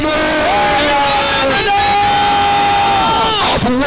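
A church congregation shouts and screams together during loud prophetic prayer, a sustained dense roar of many voices that rises and falls over several seconds.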